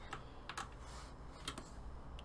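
Keys on a computer keyboard pressed for a Control-Shift-D shortcut during digital art work, giving a few sparse, close, sharp clicks over a steady background hum.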